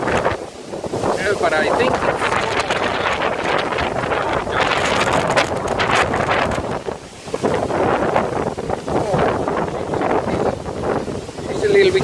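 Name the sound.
strong warm southern wind in stormy weather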